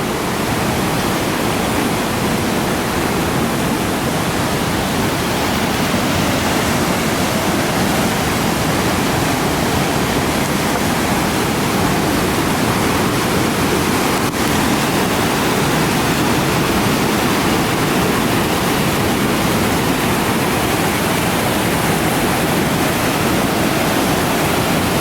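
Silver River Falls in Skanee roars with a constant, dense rush of falling water, heard up close, steady and unbroken throughout.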